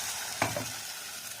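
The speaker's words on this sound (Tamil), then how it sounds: "இப்போ நம்ம தக்காளி அரைச்சி வச்ச தக்காளியை ஊற்றிடலாம்" Ground tomato puree sloshes into a hot pan while making sambar, sizzling and bubbling softly against a steady frying hiss, close and moderately quiet.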